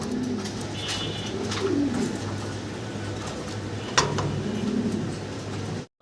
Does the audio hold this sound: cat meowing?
no